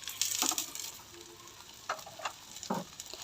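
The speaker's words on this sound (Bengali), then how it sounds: "আলু পরোটাটা ভেজে নিব।" An aloo paratha fries in a little oil in a wok, a quiet sizzle marked by a few brief crackles and scraping touches spread across the moment, near and without talk.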